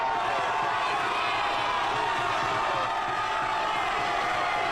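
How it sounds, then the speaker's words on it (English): Philadelphia crowd out in the street celebrating the Eagles' Super Bowl win, a steady dense roar of cheering and shouting that holds at an even level throughout, broad and moderately distant. "And listen to this crowd"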